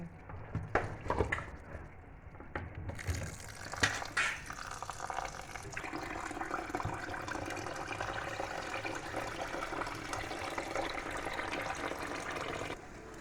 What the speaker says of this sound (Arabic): هذا نغسل التمن ان شاء الله، هذا نغسل التمن وياكم.